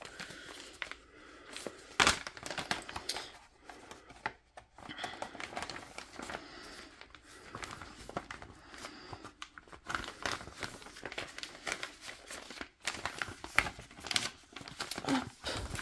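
Plastic packaging around a cross-stitch kit being unwrapped, close crinkling and tearing rustles in irregular bursts running throughout, with no talk over it.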